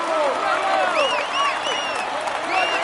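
A large roadside crowd at the Tour de France claps and cheers steadily for the white jersey winner, with shrill whistles rising above the applause throughout.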